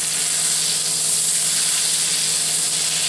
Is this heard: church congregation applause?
no